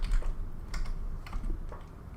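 Keys tapped on a computer keyboard to enter a command in the game Duskers: a short run of light, close clicks in an uneven rhythm over a low background hum.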